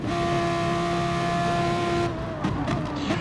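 Hyundai and Audi touring race cars accelerate in a racing video game, a steady sustained engine drone with a held tone that shifts and fades near the end.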